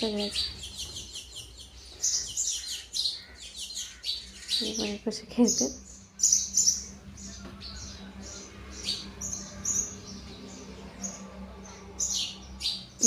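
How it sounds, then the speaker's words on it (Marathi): Sparrows chirp in quick, bright bursts at close range around a house, repeated throughout, while a person talks over them now and then. "छान असं खेळत होते चिमण्या"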